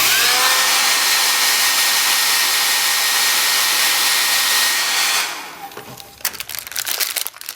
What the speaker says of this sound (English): now when I start blow drying this, you'll see that it gets waxy